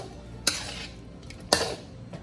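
A utensil scrapes and knocks against a pot while Indomie noodles are stirred, giving two distinct metallic clinks about a second apart over a steady cooking hiss, close up.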